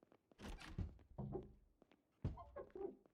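A zombie bangs on a house door in the video game Project Zomboid, a series of dull, heavy thuds in two bursts with short gaps between blows, fairly close.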